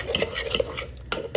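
Spoon stirring cooked rajma curry in a pan, giving soft scraping and clinking strokes at an irregular rhythm, close and moderately loud, with no talking.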